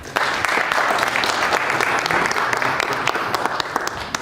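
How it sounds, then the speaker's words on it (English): An audience at a Harlem event applauds in steady, dense clapping at close range, holding a fairly even level throughout. "Please give a round of applause to the day."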